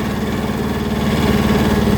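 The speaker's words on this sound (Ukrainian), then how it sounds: "Джинджурить і своїми дев'ятьма з половиною кониками робить вирвані гози." Kubota mini tractor with a 9.5 horsepower engine runs steadily at close range, a loud continuous low throbbing hum with a faint mechanical rattle and no pauses.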